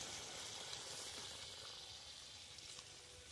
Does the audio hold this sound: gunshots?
no